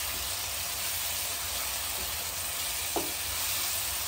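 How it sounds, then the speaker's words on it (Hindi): Coriander fries in a tadka of hot oil for a Punjabi mixed-vegetable dish, making a steady close sizzle with a single short clink of a utensil partway through; nobody talks. "धनिया नूं तड़के विच थोड़ा जिहा नूं फ्राई करांगे"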